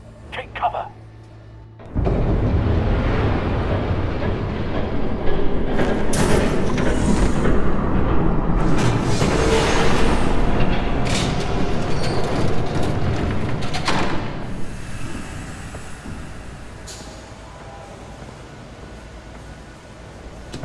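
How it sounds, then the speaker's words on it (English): A train passing in a Batman video game: after a quiet start, a sustained, loud broadband rumble swells and rolls on with scattered clanks before slowly fading, and a voice speaks over it. "There's a train coming."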